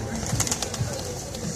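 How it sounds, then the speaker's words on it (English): Soft pigeon coos come in short bursts under a person talking nearby at Union Square, New York City, with a faint fluttery rustle in the background. "Once you feed pigeons, they tend to flock to you."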